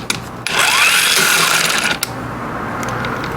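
A powered tool whirs loudly for about a second and a half while a 17 mm nut on a Chinese scooter is spun off, then stops abruptly, leaving a faint hum.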